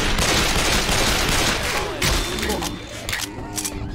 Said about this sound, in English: Don't shoot at the washroom.